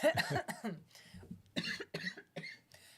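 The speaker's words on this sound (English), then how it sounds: "sorry guys, coughing into the mic" A series of sharp, close coughs in quick bursts, loud and right up against the microphone.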